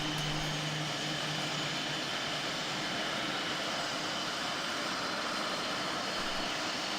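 Simulated Embraer E190 jet engine starting up in the FSX flight simulator, a steady broadband roar with a low hum, holding at constant loudness throughout with no talking.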